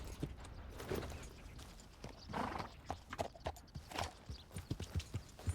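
Horse hooves clip-clop at a walk in a Western video game, a steady series of close, distinct hoof knocks with an occasional whinny over a low ambient bed.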